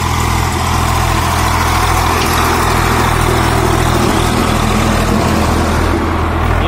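Loud, close diesel drone of a 1991 Swaraj 735 FE tractor dragging a nine-tine tiller across a field, a steady, heavy low rumble with mechanical clatter that holds at constant strength throughout, with no voices heard.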